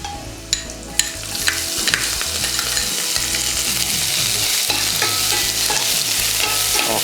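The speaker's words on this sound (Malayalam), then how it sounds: "ഈ ഒരു സ്റ്റേജിൽ നമുക്ക് അതിൻ്റെ അകത്തേക്ക് സ്പ്രിംഗ് ഓണിയൻ ഇടാം" Spring onion bulbs go into hot oil with golden sliced garlic for chilli chicken, making a steady loud sizzle with spatula scrapes and stirring knocks throughout, no voices.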